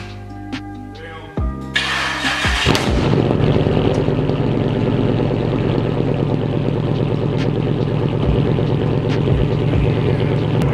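Monte Carlo engine on a cold start after sitting for hours, running rich: cranking gives way to a loud rumbling idle punctuated by sharp exhaust pops, heard up close.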